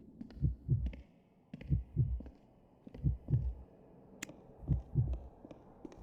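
A character's heartbeat rises in the horror game White Day as a clear, close lub-dub thumping in paired beats, about one pair per second, repeating steadily over a low hum.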